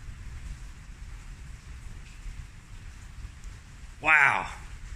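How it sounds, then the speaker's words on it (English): Rain falls steadily outdoors during a thunderstorm, a soft continuous hiss throughout, with a sudden louder burst near the end. "Can you guys hear the rain?"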